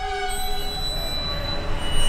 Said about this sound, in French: Il y a beaucoup de trains qui passent là